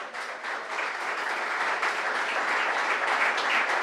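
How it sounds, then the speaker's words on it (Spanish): A church congregation breaks into loud, sustained applause after a call from the preacher, a dense wash of many hands clapping steadily for several seconds with no voices on top. "¿Le puede dar un fuerte aplauso?"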